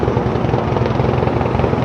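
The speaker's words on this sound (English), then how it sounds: "Uh-oh, helicopter." Helicopter landing nearby on a Manhattan street, a steady loud rotor and engine drone that fills the whole stretch with continuous chopping rumble over city ambience.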